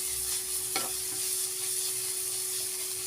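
A spoon scrapes through a spiced tomato mixture in a hot pan, where a soft continuous sizzle runs underneath and one sharp clink of utensil against metal cuts through near the start.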